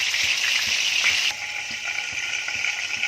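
Spiced masala sizzles and fries steadily in hot oil left over from frying fish for a Goan fish curry, a loud continuous hiss with faint stirring clicks and no voices.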